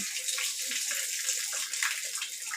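A tap runs in a village bathroom, a steady close hiss of splashing water with light gurgles and no pauses.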